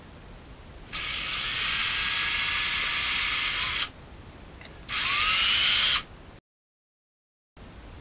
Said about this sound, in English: Deburring tool normally low, lower speeds, always better.